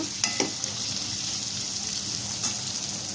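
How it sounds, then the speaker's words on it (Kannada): Two large onions sliced lengthwise frying lightly in oil for gobi manchurian make a steady, even sizzle with a few brief spatula taps near the start and one later, no voices. "ಇದನ್ನು ಅಷ್ಟೇ ಲೈಟಾಗಿ ಉರಿಬೇಕು ತುಂಬ ಜಾಸ್ತಿ ಫ್ರೈ ಎಲ್ಲ ಮಾಡಬಾರ್ದು"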